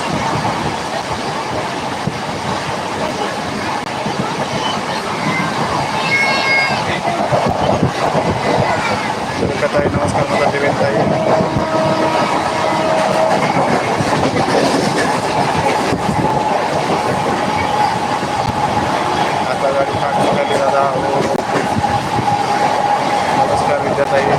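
A train runs steadily with a loud rumble, rhythmic clatter and occasional squeals, voices faintly audible beneath the noise.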